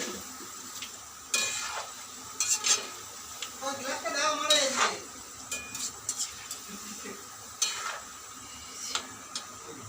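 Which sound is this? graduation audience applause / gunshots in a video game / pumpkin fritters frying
pumpkin fritters frying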